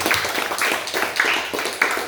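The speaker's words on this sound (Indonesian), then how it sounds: "tepuk tangan untuk semuanya" Students applaud after a classroom presentation on potassium chloride fertiliser, a dense, continuous patter of many hands clapping at once, fairly loud and steady throughout.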